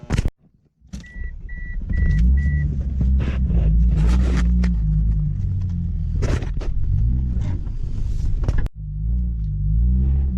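A car fitted with a front-mount turbo setup idles and rumbles low and steady, briefly revving as it is moved, with a few short beeps early on.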